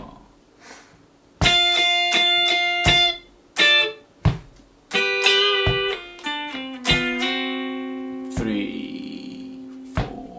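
An electric guitar plays a double-stop lick, with sharp picked pairs of notes, short stops, then sliding double stops up the neck, loud and close with no talking.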